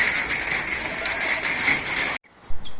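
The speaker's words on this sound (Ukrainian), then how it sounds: "Так, дощ нас настав, друзі." Rain falling outdoors in a garden, a dense steady patter that runs loud and continuous before cutting off abruptly near the end, followed by a few soft knocks.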